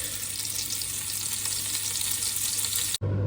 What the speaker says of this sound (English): we're going to fry these off till they're nice and golden brown